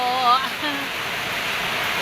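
Rain falls steadily in rural Phon Phisai, Nong Khai, making a continuous hiss like water on surfaces, with a faint voice briefly heard early on.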